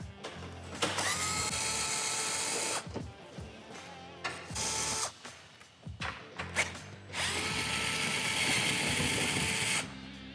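A power tool removes three existing bolts from a Polaris General 1000 before rock slider installation, with loud close bursts of whirring drill-driver noise separated by short pauses and clicks.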